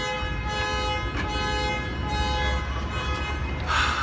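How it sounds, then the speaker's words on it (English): A car horn honks repeatedly nearby outside a convention hall, sustained tonal blasts running steadily over a busy crowd hubbub, with a brighter burst near the end. "there is a car that's honking its horn, like right down here"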